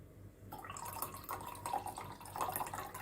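Water poured from a container into a glass for diluting orange blossom water while making makroud, a light trickling and splashing pour that starts after a brief pause and continues steadily nearby.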